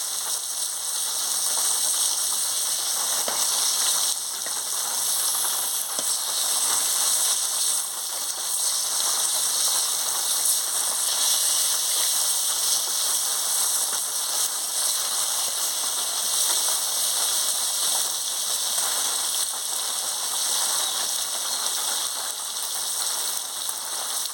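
Fish fries in hot oil in a pan with a constant, dense hiss and crackle, steady and fairly loud for the whole stretch, no voices.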